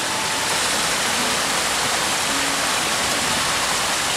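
Small waterfall near Unagi Falls in Yamato, Kumamoto, a steady broadband rush of falling water that holds constant and fairly loud across the whole stretch with no pauses.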